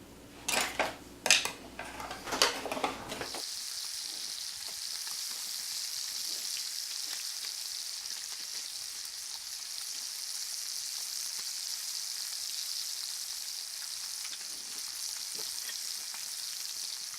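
Pork chops sear steadily in a hot pan, a continuous bright sizzle held for a long stretch after a few sharp clinks and clatters of utensils and cookware at the start.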